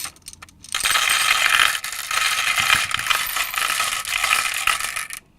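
Marbles rattle and clatter continuously through a plastic Q-Ba-Maze 2.0 marble maze toy with a Speed Sprocket section, a busy close rolling and clicking racket lasting several seconds with no talking.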